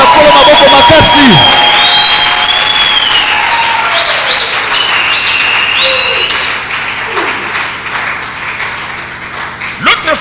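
A church congregation bursts into loud, sustained applause and cheering, with shouts and whistles rising over dense clapping close by. The noise then eases slightly toward the end.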